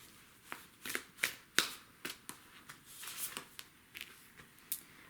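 Cards from a tarot deck are handled close up, making a quick series of faint papery flicks and snaps, some soft and some sharper, as one card is pulled.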